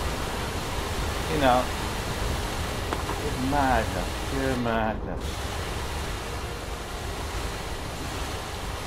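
Water splashing and washing around a character wading in Skyrim, a steady broad rushing wash that runs throughout while someone talks over it.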